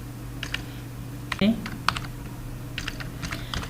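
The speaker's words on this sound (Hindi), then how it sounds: "यहाँ पे आके आप टाइप करें" Typing on a computer keyboard while entering data into an Excel spreadsheet, a few quiet scattered key clicks in short bursts over a low steady hum, near and faint.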